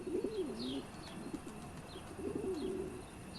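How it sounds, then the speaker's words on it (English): A pigeon coos in a bell tower, soft rolling calls repeating in a steady pattern, with faint chirps from other birds in the background. "A pigeon has built a nest."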